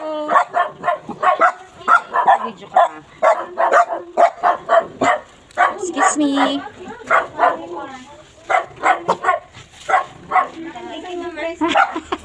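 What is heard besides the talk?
dog barking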